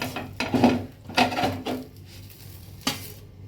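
Metal spatula scrapes and clatters against a pan while lifting a chira (flattened rice) dosa, a few distinct scraping strokes close up with a faint sizzle between them, no talking.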